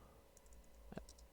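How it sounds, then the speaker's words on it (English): A few light computer keyboard keystrokes, faint and close, with a small cluster of clicks in the middle and one louder tap at the very end of a brief, otherwise quiet moment. "I'm going to type in April"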